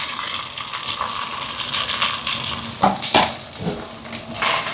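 Garlic, whole green chilies and small shallots frying in a pan, giving a steady bright sizzle with a few clattering stirs partway through and no one talking.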